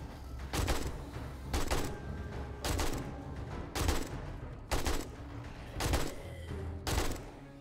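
Tier 4 AK machine gun firing in 7 Days to Die, loud rapid bursts repeating roughly every second, each a short sharp volley of shots with gaps between.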